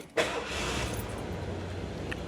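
A 1978 Lincoln Continental convertible's 7.5-liter 460 V8 cranks and catches, then settles into a steady, loud, rumbling idle close by, with no talk over it.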